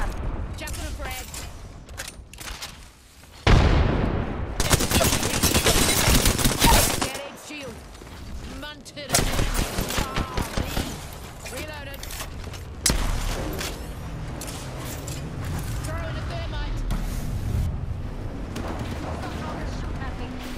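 Gunfire rattles in Apex Legends, with loud bursts of automatic fire and sharp single shots coming in several clusters amid mechanical game effects, while a player talks over the fighting.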